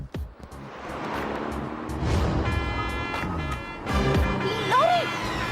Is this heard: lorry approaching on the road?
yes